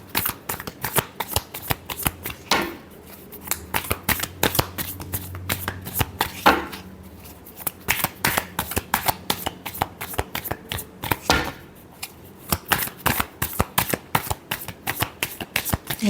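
Tarot cards are shuffled by hand in rapid riffling bursts and flicks, loud and close, with short pauses between rounds and no talking.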